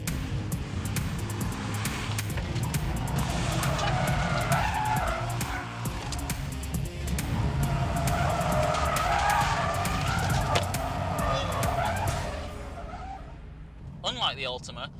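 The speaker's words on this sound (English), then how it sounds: "we introduce oversteer ourselves by getting off the gas aggressively mid-corner." Tires of a 2013 Nissan GT-R squealing on a racetrack as the rear slides in lift-off oversteer, a long loud skid with engine roar and a voice talking over it, fading near the end.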